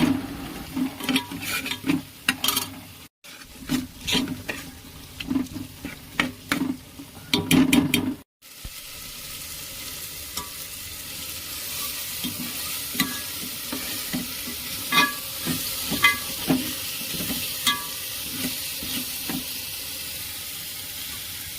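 Biryani masala with green chillies frying in oil while being stirred, intermittent scraping stirs and spattering over a soft continuous sizzle, close and without talk, with brief silent breaks early on.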